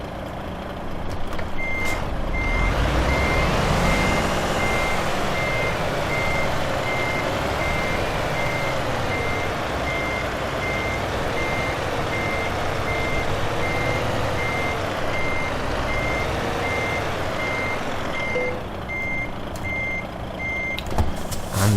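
A truck in Euro Truck Simulator 2 backs into a trailer park, its reversing alarm beeping in a steady, evenly spaced rhythm over a low, constant diesel engine hum, with no talking.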